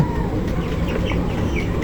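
A crowd of 19-day-old broiler chickens clucks and murmurs close by, a dense, continuous chorus of overlapping calls.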